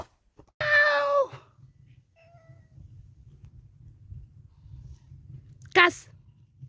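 A cat meows twice on a Namibian farm in winter. The first is a long, clear, drawn-out meow, followed after several seconds of low background hum by a second, shorter meow, and nobody speaks.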